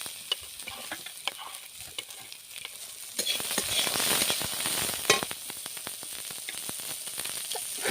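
Garlic and chopped onion fry in a pan for a chilli bharta, a steady close sizzle broken by frequent crackles and pops, growing louder and denser midway through.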